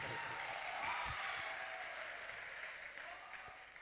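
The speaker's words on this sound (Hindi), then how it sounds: "तो इन्हीं हौसलों को सलाम करके एक जोरदार ताली हो जाए आप सबकी तरफ से।" Audience applause at a college event, a steady dense wash of clapping that carries on for several seconds and slowly fades, heard without talk.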